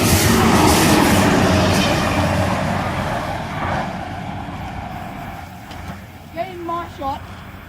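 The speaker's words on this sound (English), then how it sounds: "We have a J-set passing, J7." A J-set passenger train passes through East Maitland station, loud and rumbling at first, then fading steadily into the distance. A few brief voices come in near the end.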